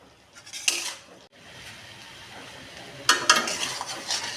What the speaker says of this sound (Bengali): তাহলে মশলাটা ভালোভাবে তেলের সবজির সাথে কষানো হবে।